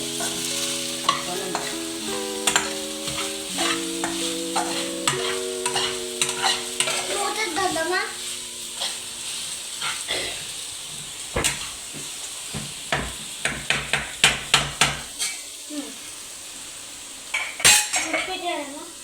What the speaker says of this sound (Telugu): ఇది బెండకాయ ఫ్రై కూడా ఆల్మోస్ట్ అయిపోయింది, ఇంకొంచెం కలపాలంటే.